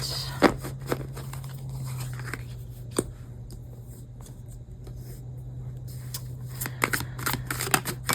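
Tarot cards being put back and shuffled, with soft papery riffles and sharp card snaps at irregular moments over a low steady hum, close and fairly quiet.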